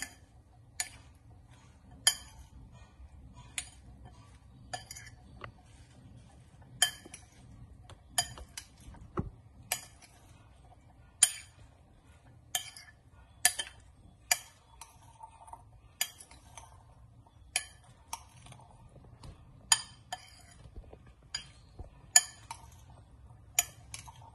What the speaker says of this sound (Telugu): దీన్ని ఇలా మిక్స్ చేసుకుందాం.